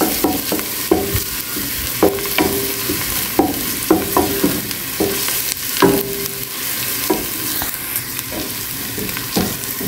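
Onions frying in a pan and being stirred, a steady close sizzle broken by repeated scraping and clinking strokes of the utensil at a regular pace, with no voices.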